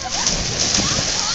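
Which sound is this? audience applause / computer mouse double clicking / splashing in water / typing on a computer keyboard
splashing in water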